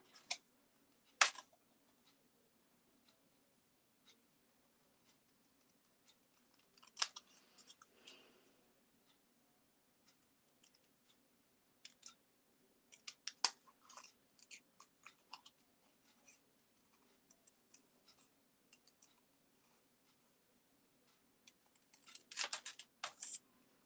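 Scissors snipping paper in small, fussy cuts around a design, quiet and close, with scattered clusters of short crisp snips separated by pauses.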